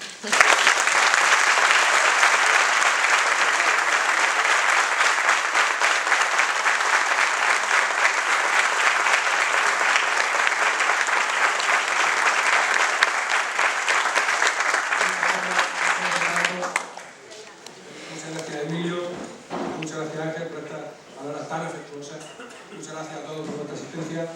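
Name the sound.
audience applause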